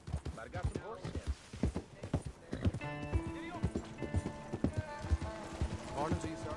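Horse hooves clip-clop steadily in a Western-themed video game scene, with a horse whinnying and characters talking over the hoofbeats throughout.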